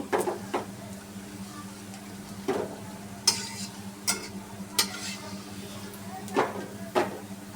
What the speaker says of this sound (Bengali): আমি এই যে লাল লাল করে মরিচ ভেজে নিয়েছি এখন মরিচগুলোকে সব উঠিয়ে নেব